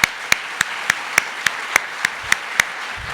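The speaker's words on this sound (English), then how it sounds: "If you could join me in giving them a round of applause." About eleven crisp, evenly spaced claps at a steady beat fill a short stretch after a call to thank a project's contributors, sounding like slow rhythmic clapping rather than a dense crowd roar.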